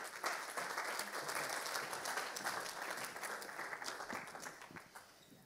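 A conference audience applauds as a speaker comes on stage, a full, steady burst of clapping that stays strong for several seconds and begins thinning toward the end.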